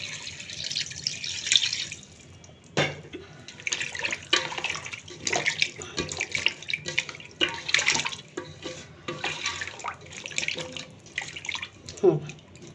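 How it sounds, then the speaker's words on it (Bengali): Water splashes into a cooking pot of meat and papaya in fits and starts, broken rushes of pouring close by that rise and fall across the whole stretch, with brief pauses between pours. "এই তো পানি দিয়ে দিচ্ছি।"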